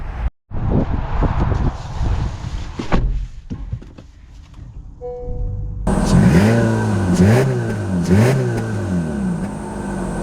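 A 2024 Honda HR-V Sport crossover driving, engine droning and rising in pitch as it accelerates, with rolling road noise and a few shifts in tone, heard close from inside the car.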